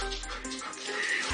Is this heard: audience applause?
no